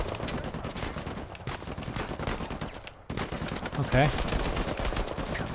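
Heavy gunfire in the video game Uncharted 4 rattles in dense bursts of rapid shots, loud and continuous with a brief gap, while a voice speaks briefly over it.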